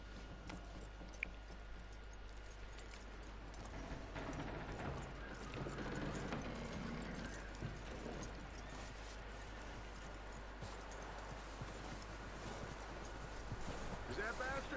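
Horse hooves clip-clop faintly in the Red Dead Redemption video game, a quiet, steady patter under a low hum and ambient game noise, with occasional voices.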